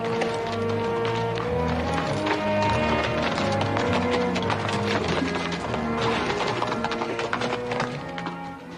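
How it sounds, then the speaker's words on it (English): Steady clip-clop of horse hooves in a brisk rhythm, with occasional faint clatter in the background, in a Western drama scene set in desert country. "Better take it easy on the horses."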